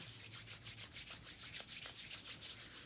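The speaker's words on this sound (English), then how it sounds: "what I'd like you to do is rub your hands together" Palms rubbing briskly together in a steady back-and-forth rhythm, a dry close-up swishing repeated many times with no talking.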